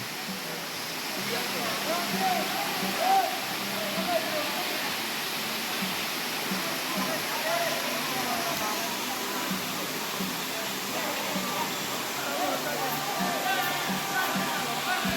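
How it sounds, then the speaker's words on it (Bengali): A monsoon-season waterfall in the hills at Sitakunda pours in a steady, dense rush of water close by, with faint voices now and then beneath the roar. "এই যে এইখানে এই ঝর্ণাটাই যে পরিমাণে বড় সুন্দর ফিল দিচ্ছে"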